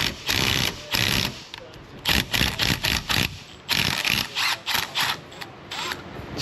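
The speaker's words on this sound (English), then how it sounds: "this tap should fix those threads" A ratchet turns a thread tap to chase badly damaged bolt threads on a car, giving a run of rasping, clicking bursts in an uneven rhythm with short pauses between strokes, close up.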